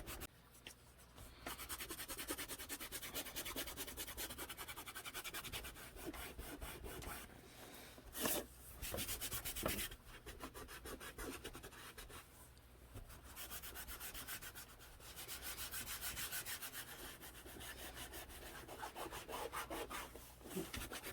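Continuous hand-buffing of dark Annie Sloan wax across a painted Dollar Tree sign, a steady rubbing and scrubbing texture that runs close and fairly loud, with brief pauses between strokes and no talk.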